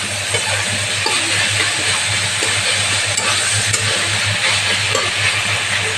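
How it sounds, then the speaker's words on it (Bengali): Vegetable curry being stirred in a pan just after a little sugar is added, giving a steady close sizzle and hiss with faint scraping throughout, no voices. "এটা ভালো করে মিশিয়ে নিচ্ছি এখন।"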